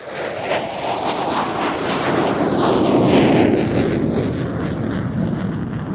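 Pakistani F-16 Falcon and JF-17 Thunder jets flying a side-by-side Cuban 8 at an airshow, a steady broad roar from a distance that swells slightly and holds for the whole stretch.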